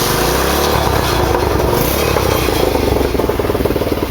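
A 110cc pit bike engine revs hard during a burnout, a loud, steady buzzing roar with rattling clatter that pulses faster toward the end, heard up close.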